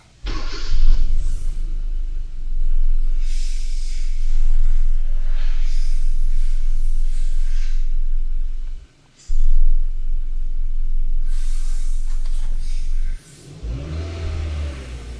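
A 2012 Hyundai Accent engine cranks, starts and settles into a loud steady idle with a brief rev, cutting out and restarting once before dropping back near the end.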